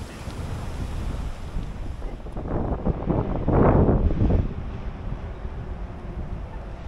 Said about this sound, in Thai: โอ้โหนี่ลมแรงมาก